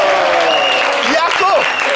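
Audience applause at a live show: a steady wash of clapping fills the whole stretch at a fairly loud, even level, with a voice speaking over it.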